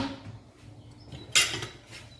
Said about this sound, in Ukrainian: файно промішую із зеленю